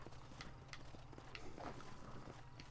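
Horse hooves clip-clop in a Red Dead Redemption ride, with faint, quiet, irregular hoof strikes over a low background hum.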